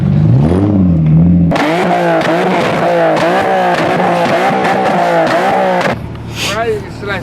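A car engine at a street meet with A90 Supras, a G35 and an M240i revs hard and repeatedly, its rising and falling pitch near and loud, then drops back to idle near the end, with people talking over it.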